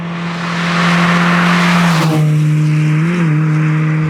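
A road-rally-spec Nissan Micra K11's small engine revs hard up close, one loud sustained rise in pitch with a brief dip and recovery as it holds near the limiter, no talk over it.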